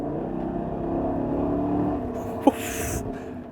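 A 2021 Chevrolet Tahoe's engine pulling hard under throttle to pass, heard from the cabin as a rising, steady low drone that swells and then eases, with a brief knock partway through.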